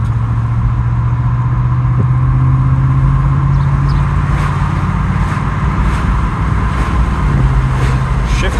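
Ford F150 pickup truck driving just after a transmission fluid change, with a steady, loud engine and road drone from inside the cab, a low hum rising and holding, and no talking.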